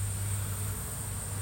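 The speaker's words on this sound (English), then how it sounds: "The guard bees keeping the bees that don't belong in here out, which is the robbers." Bees buzzing at the entrance of a five-frame nuc hive, a dense continuous drone with a steady high whine, close and loud without talk.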